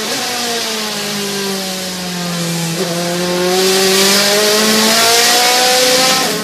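Loud DTM Mercedes and Audi race car engines at the Zandvoort circuit, one car's note droning steadily and then swelling as it draws closer.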